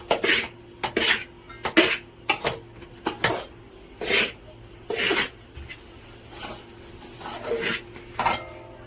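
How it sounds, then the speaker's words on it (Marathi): Laddu mixture being stirred in a pan, repeated scraping and clinking strokes of a spoon against metal in an irregular rhythm, close and clear with no talk. "हे बघा आता खाली घेऊन आपल्याला हे असं पूर्ण हलवून घ्यायचं आहे"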